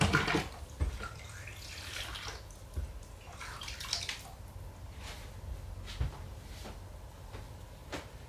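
Running water splashing as a ceramic glaze test container is washed out, a steady close rush of water with irregular knocks and sloshes from handling the vessel.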